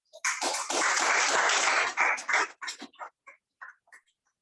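An audience at a Hindi spiritual talk breaks into a burst of clapping that holds for about two seconds, then thins out into scattered individual claps and fades away.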